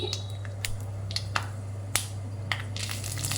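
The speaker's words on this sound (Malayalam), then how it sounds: "കടുകി പൊട്ടി തുടങ്ങി" Mustard seeds pop and crackle in hot coconut oil, sharp scattered snaps over a steady low hum, growing busier toward the end.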